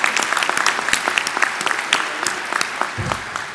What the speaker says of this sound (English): you better give a clap to Jill